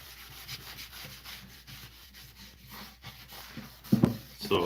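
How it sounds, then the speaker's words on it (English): Sandpaper rubs steadily over the wooden back of a Telecaster guitar body in a quiet room, a soft, repeated scratchy stroke with louder bumps near the end. "So obviously some sanding happening back here as well."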